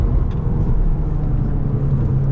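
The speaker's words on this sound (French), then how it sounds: "il y a une voiture qui arrive là-bas" A car approaching along a road, heard as a steady, loud low engine rumble with a faint whir that holds throughout without a clear peak.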